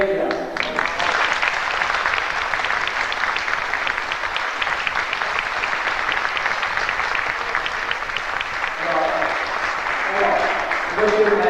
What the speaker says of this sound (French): je vais vous demander quand même d'applaudir le président